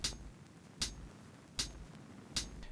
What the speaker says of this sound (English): Then we have a hi-hat that is going just on the offbeats